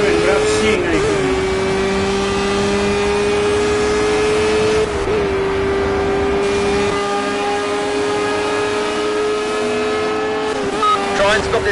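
A race car in the video game Project Cars, with a loud, sustained engine drone that shifts pitch slightly as it runs, plus brief tire noises near the start and end.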